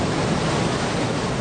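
A tidal bore driven by an extremely high spring tide and seasonal winds surges into a river mouth, a loud, dense, unbroken roar of rushing water filling the whole short stretch with no voices.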